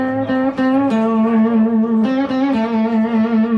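An electric guitar plays sustained notes through a slightly gritty, lightly overdriven amp, with several picked attacks and notes ringing out between them.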